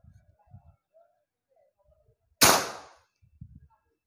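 A PCP Ghost Warrior air rifle fires a single sharp shot, a loud crack with a short decaying tail midway through an otherwise quiet scene with faint low murmurs.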